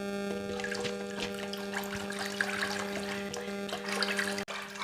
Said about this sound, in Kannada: ಮ್ಯಾಲೆ ಸ್ವಲ್ಪ ಕೆನೆ ಬರೋ ತನಕನೂ ಕಡಿಬೇಕು